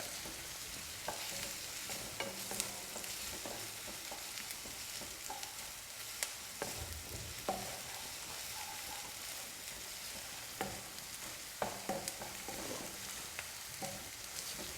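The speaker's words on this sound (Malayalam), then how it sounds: "ഇഞ്ചിയും വെളുത്തുള്ളിയും കൂടെ ചതച്ചുകൊണ്ട് വന്നത് ഇടുകയാണ്. ഇതൊരു മിനിറ്റൊന്ന് മൂപ്പിക്കുക, ഇഞ്ചിയും വെളുത്തുള്ളിയും കൂടെ ഉള്ളിയുടെ കൂടെ." Crushed ginger and garlic sautéing with onion in oil for an aloo matar curry, a quiet steady sizzle broken by frequent spatula scrapes and taps on the pan, no one speaking.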